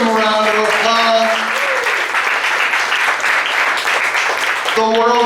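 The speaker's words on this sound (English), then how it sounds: "Give them a big round of applause." Audience applause at a university homecoming event, a dense wash of clapping filling several seconds while a voice speaks over the start and end.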